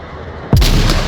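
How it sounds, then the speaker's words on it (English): A grenade explodes in the multiplayer VR shooter Onward during a competitive match, one sudden loud blast with a heavy low thump and a broad crackling tail that lingers for about half a second. "Long grenade, not connecting, but was right on target."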